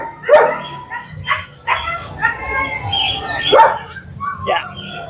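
Several dogs at an outdoor pet market bark and yip in short, uneven bursts close by, mixed with voices talking throughout.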